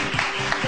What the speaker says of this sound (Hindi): अरे बहुत सारी तालियां।